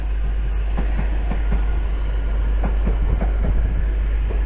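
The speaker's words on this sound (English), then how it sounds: "The next train, and also the next train passed by, is Avanti 390 Pendolino from London Euston to Liverpool Lime Street." An Avanti Class 390 Pendolino passenger train rolls steadily past nearby at Bushey station, its wheels beating a rhythmic clickety-clack over the rail joints beneath a constant low rumble.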